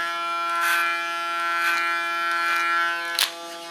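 An electric hair clipper hums steadily at close range as it cuts short hair, with a few brief brighter bursts where the blades pass through the hair, and no one speaks.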